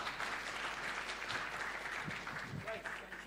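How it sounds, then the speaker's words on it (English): Applause from the audience at an investment symposium, a steady broadband wash of clapping lasting the whole stretch, moderately loud, with a few voices faintly audible beneath it. "Please, a big round of applause."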